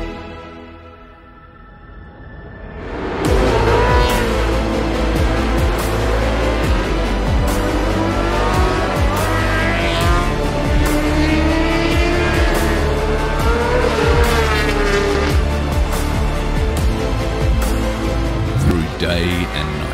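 Race cars at a 24-hour endurance race, loud engines roaring and sweeping past with rising and falling pitch after a quieter opening, continuous and dense, with voices over the top.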